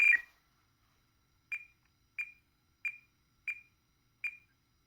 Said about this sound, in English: Excuse the beep.